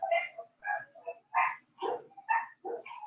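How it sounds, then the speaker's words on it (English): Several dogs bark and yip excitedly at a package delivery, a run of about eight short, fairly close bursts with brief gaps, some with a howling, singing edge, with no other sound. "at my house, the dogs get really excited when someone's delivering a package, and they like to sing to whoever's here."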